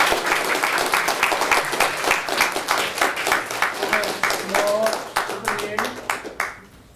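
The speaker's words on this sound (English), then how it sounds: "let's give a warm applause again" Lecture-hall audience applauding after a distinguished university lecture, steady dense clapping from many hands that thins toward the end and fades out in the last second.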